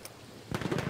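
Enemy machine gun fire in a Battlefield video game: a loud, rapid burst of rattling shots that starts midway and continues to the end.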